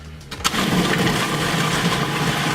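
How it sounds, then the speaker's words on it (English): Food processor whizzing a batch of homemade Southern pimiento cheese, its motor spinning up and then running as a loud, steady, close whir. "we're just gonna whiz this up"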